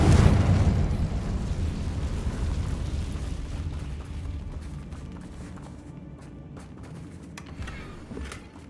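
Incendio and Confringo spells in Hogwarts Legacy, a loud fiery blast opening the moment with a deep rumbling roar that slowly fades, followed by scattered small pops and crackles.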